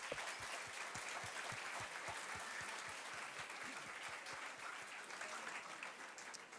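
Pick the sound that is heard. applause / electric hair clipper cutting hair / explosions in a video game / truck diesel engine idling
applause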